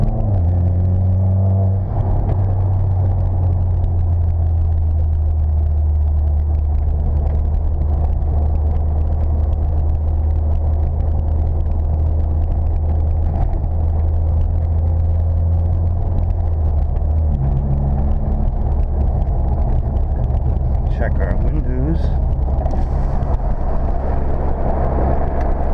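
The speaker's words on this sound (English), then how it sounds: "My vehicle definitely has some good acceleration." A 2005 VW Golf GTI with a 1.8L turbo engine and five-speed manual pulls hard under acceleration, a steady deep engine drone and road rumble heard from inside the cabin, rising and shifting partway through.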